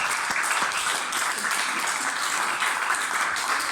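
Sustained crowd applause fills a demo day event room, many people clapping in a continuous, even roar that holds steady at moderate loudness from start to finish.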